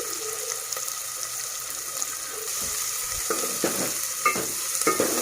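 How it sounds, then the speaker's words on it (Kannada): Vegetables for a mixed vegetable sambar fry steadily in a pan with a continuous sizzle, while a spoon stirs and scrapes through them in several clattering strokes near the end. "ನೀಟಾಗಿ ಫ್ರೈ ಮಾಡ್ಕೊಳ್ಳಿ."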